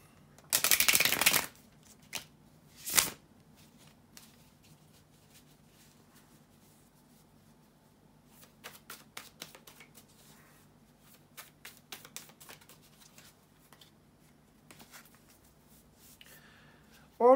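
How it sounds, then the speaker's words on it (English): Tarot cards are shuffled in short riffling bursts, then softer flicking and sliding of cards follows in scattered taps, close and quiet otherwise. "bear with me a second, guys, to shuffle the tarot cards"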